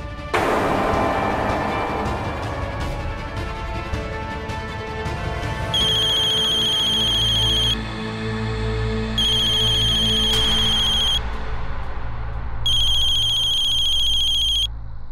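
A mobile phone rings with an incoming call, a bright electronic ringtone in three bursts of about two seconds each, loud and close, following an opening stretch of louder booming, crashing sound.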